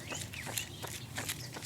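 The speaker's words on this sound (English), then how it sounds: "I hear my footsteps" Quick, evenly spaced footsteps at a running pace thud and scuff close by, about six strides in under two seconds.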